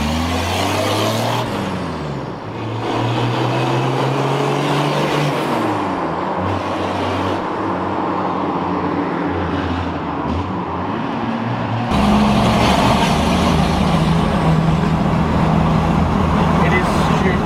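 Turbocharged Toyota 60 series Land Cruiser engine running with the exhaust cutout open, a loud, close rumble with revs sweeping up and down, then a harsher, louder roar for the final few seconds, with people talking over it.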